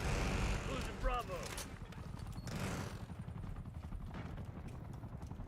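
A chopper gunner helicopter fires in Call of Duty: Black Ops 6, bursts of heavy gunfire and rumbling explosions amid a dense battlefield din, with a voice speaking over it.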